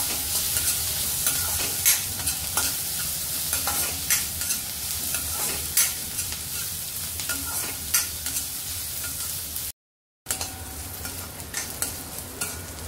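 Curry leaves and crushed garlic hit hot oil for tomato rice, giving a constant close sizzle with repeated spoon-stirring scrapes and one short silent break.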